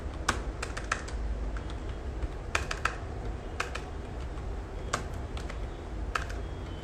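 Keystrokes on a computer keyboard come in short irregular bursts while keywords are entered, with scattered clicks over a steady low background hum and no voices.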